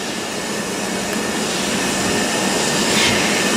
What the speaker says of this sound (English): Vintage train arriving back from Ingro.